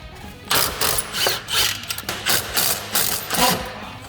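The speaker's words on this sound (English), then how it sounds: "the impacts, they don't break the bolts if you just give them a couple zaps" Impact wrench hammering on exhaust bolts of a Honda 400EX ATV, a series of loud, close rattling bursts in quick succession, about eight short zaps with brief gaps between them and no speech.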